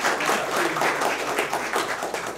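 An audience at a Brazilian literature event applauds for an honored guest, a brief burst of dense, moderately loud clapping that holds steady through the short moment.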